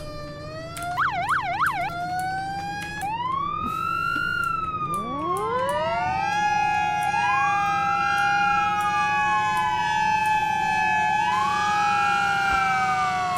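Emergency vehicle sirens in the video game Flashing Lights. Several loud siren tones sweep and wail continuously and overlap one another, with a rapid warbling pattern early on, over a low engine drone. No one speaks.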